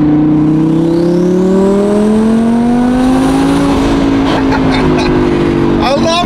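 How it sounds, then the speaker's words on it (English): Twin turbo Audi R8 pulling hard, loud engine tone climbing steadily, then dipping through downshifts with sharp exhaust crackles and pops near the end, recorded from inside the car. "Watch, listen to these downshifts and that crackle."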